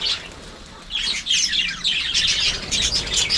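An escaped pet hill myna calls outdoors in a rapid series of bright, chirping whistles that grow louder and denser after a brief quieter opening.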